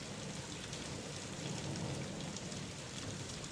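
Steady, dense rain falls close by with a low rumble of thunder beneath it, a constant hiss throughout and no voices.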